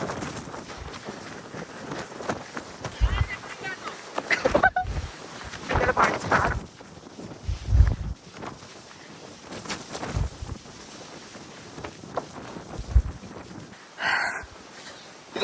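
Strong gusts sweep across a hilltop at Chathurangapara during an offroad outing, buffeting the microphone in irregular roaring bursts that rise and fall throughout.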